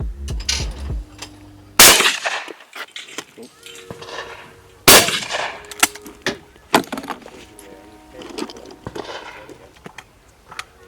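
Shotgun blasts at skeet clay targets on an outdoor course, two sharp loud reports several seconds apart, each with a ringing tail, followed by clattering handling noises and faint voices.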